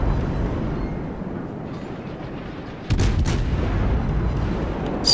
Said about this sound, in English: now Max's turn to take some armor-piercing shells